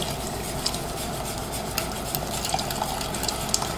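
Cornstarch slurry is whisked into homemade teriyaki sauce in a pot, a steady close swishing with light scrapes and small metallic taps against the pan throughout, no talking.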